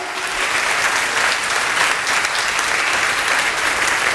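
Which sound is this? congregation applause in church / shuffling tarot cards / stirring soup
congregation applause in church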